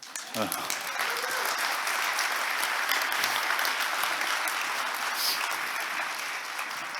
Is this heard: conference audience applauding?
yes